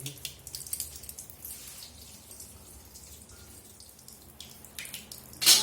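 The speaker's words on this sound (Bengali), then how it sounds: "গরম জল দিয়ে মাছটা ধোবো" Hot water runs and splashes over a fish being washed in a kitchen, a steady soft trickle with scattered drips and brighter splashes, ending in a louder rush of water.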